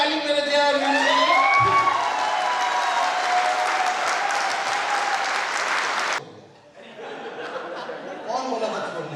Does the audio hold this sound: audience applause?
yes